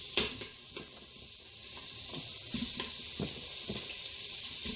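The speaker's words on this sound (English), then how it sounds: "I've got my sausage cut up, and I'm just going to" Sliced sausage browns in a pan with a continuous hissing sizzle, broken by a few sharp pops and stirring clatters, close and moderately loud with no voices.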